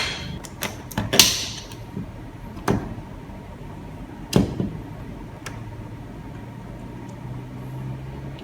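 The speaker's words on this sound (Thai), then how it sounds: "วิธีถอดนะครับ ต้องใช้ไขควงจิ้มลงไปนะครับ" A screwdriver pries a Panasonic wall power socket and its faceplate loose, making a few sharp, close plastic clicks and snaps spaced several seconds apart, with quiet scraping in between.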